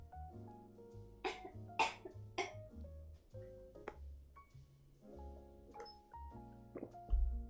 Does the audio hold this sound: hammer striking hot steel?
no